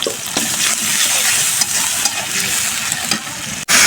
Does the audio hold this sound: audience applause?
no